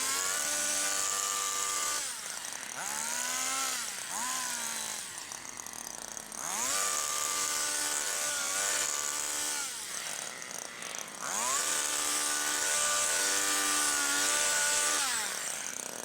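Petrol hedge trimmer cutting a hedge, the engine droning loudly and close, its pitch dipping and rising repeatedly as the blades bite into growth and the throttle is eased and opened.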